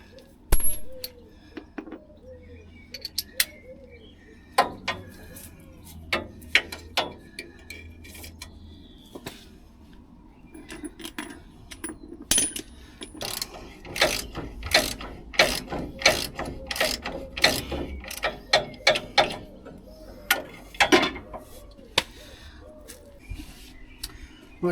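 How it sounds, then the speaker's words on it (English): Ratchet clicking in bursts as two 17mm bolts are undone on a Land Rover Defender 110's suspension, close and crisp, with brief pauses between runs of rapid clicks. "Now what I'll do is undo these 2 17mm bolts just here"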